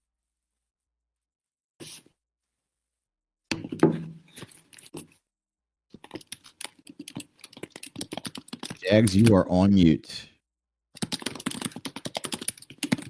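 Rapid clattering keystrokes on a computer keyboard come in bursts with pauses between them, close and crisp, and a voice speaks briefly partway through.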